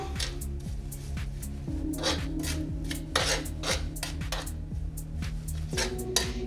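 A spoon scrapes and clinks steadily around a pot, stirring cucumber relish sauce with mustard and sugar in quick repeated strokes, close up with no talking.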